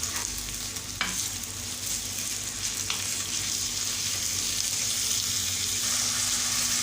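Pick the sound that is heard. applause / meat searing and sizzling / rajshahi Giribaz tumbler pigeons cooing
meat searing and sizzling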